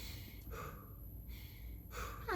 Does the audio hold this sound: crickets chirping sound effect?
no